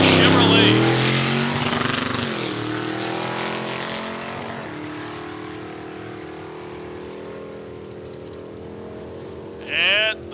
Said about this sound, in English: 1941 Willys Steel Coupe, blown Big Block Chevrolet.